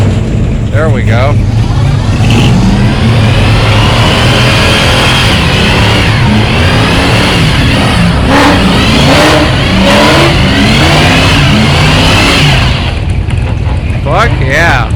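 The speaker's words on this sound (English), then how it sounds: "Older Chevy doing a little burnout" An older Chevy muscle car revs hard and spins its tires in a burnout at the Function for Junction car show in Junction City, Oregon, a loud sustained roar with rising revs, while a crowd talks over it.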